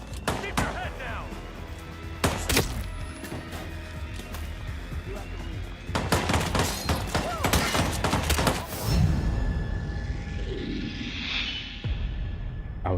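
Rapid bursts of gunfire in Hitman: World of Assassination, fast crackling volleys in clusters over a busy game soundscape with whooshes and thuds, while someone talks excitedly throughout.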